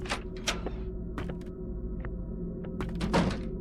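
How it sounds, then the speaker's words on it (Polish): A door thudding shut in the Granny horror game, a few dull knocks and clunks against a quiet, humming background. "Zamykaj te drzwi tu."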